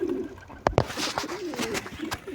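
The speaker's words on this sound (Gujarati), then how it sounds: "અહીં છે કબૂતરના બચ્ચા." Pigeons and their chicks at a nest give soft, throaty coos, a few close repeated calls with brief fluttery sounds between them.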